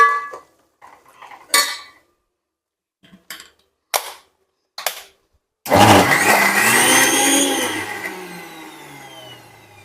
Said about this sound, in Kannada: ನಾನಿವಾಗ ಬೇಳೆ ಬೇಯಿಸಿರೋದನ್ನು ರುಬ್ಕೊಂಡಿದ್ದೀನಿ ಮಿಕ್ಸಿನಲ್ಲಿ